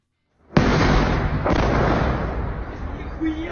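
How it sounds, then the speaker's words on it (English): A sudden loud blast jolts in after a brief silence as a missile takes a hit, followed by a second impact and a long rumbling, roaring decay. "You get a really, really good view of the missile actually receiving the hit and getting sent off of its target"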